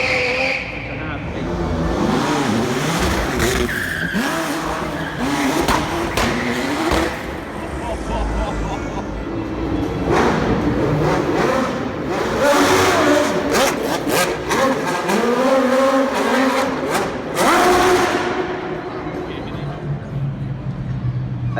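Classic cars, including Ferraris, rev and accelerate as they drive past at a car show, roaring up and fading, with a voice talking over the motor noise and some tire squeal.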